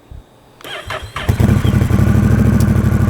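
A warmed-up 2021 Honda Rebel 1100 engine fitted with a Coffman's Thunder aftermarket exhaust cranks briefly, then catches and roars to life with a deep, throaty rumble that settles into a loud, pulsing idle.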